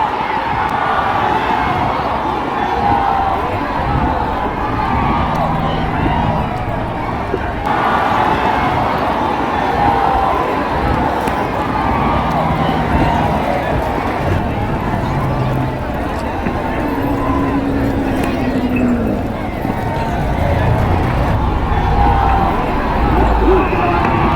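A large, dense crowd at a bullock cart race in Desai village, Dombivli, keeps up a loud, steady roar of shouting and babble with voices rising throughout, close and continuous, and someone talks over it.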